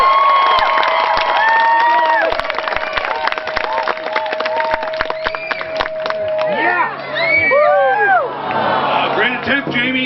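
A crowd at a Highland games caber toss in Kincardine whoops, shouts and cheers loudly and continuously, with high excited voices and sharp claps rising over the din, plus a sustained whistle-like tone early on.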